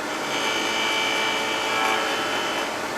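A gouge shears wood while carving an owl on a fast-spinning lathe, giving a steady, loud, close hissing rasp that holds without a break throughout.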